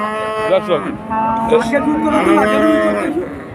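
A cow moos loudly and close at a crowded cattle market in Chuknagar, with two or three long drawn-out lowing calls in a row over a background of market noise.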